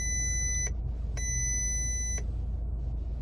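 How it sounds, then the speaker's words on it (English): A VW Mk6 GTI dashboard warning alarm for coolant temperature, triggered by a failing coolant temperature sensor, sounds as two bursts of bright, steady electronic beeping, the second longer, over a low continuous engine hum. "Nice to see that it's actually decided to alarm."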